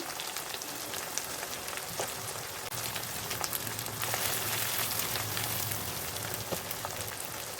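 A paste of ground black pepper, nutmeg and mace sizzles steadily in a pan as it is sautéed for chicken biryani, a soft, even crackle continuing throughout with no voices.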